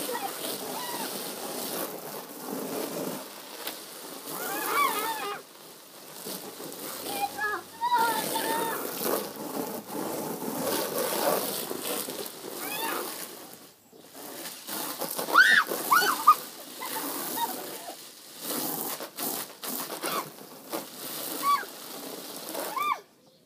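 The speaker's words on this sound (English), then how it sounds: "Turn the rain on!" Artificial rain splashes and patters onto a cardboard box fort, a fairly faint, uneven wash of water with sloshing bursts, while children and others talk and shout over it.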